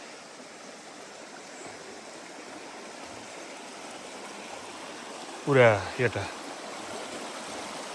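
Clear hill water flows in a stream with a steady, close rushing wash throughout, and a brief voice speaks near the end.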